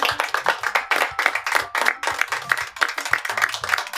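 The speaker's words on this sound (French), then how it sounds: "Veuillez les applaudir" A small group claps in brisk, uneven bursts, near and fairly loud, with brief pauses between rounds and little talk.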